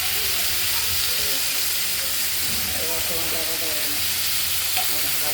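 Strips of ripe pumpkin sizzle in hot oil with mustard seeds in a wok, a loud continuous hiss with scraping stirs underneath and a voice faintly in the background.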